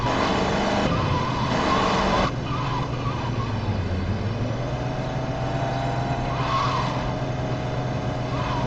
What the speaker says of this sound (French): Mon Dieu, Tony, tu conduis comme une garce.